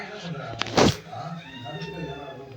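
A house cat in a kitchen lets out one short, rising meow close by, with a voice and household noise in the background.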